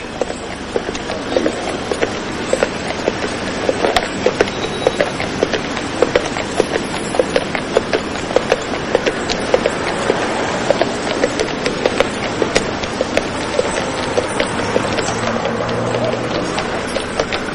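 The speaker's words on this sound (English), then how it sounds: "these horses do a very useful job" Horses pull beer carts along a city street, their hooves clip-clopping in a steady continuous rhythm over loud rumbling wheels and traffic noise for the whole stretch.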